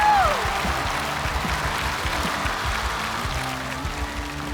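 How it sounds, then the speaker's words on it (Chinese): A stand-up comedy crowd claps to welcome the next comedian onto the stage, moderate applause continuing evenly over background music, with a rising tone at the start. "那我们用热烈的掌声，有请 Sawyer 登场"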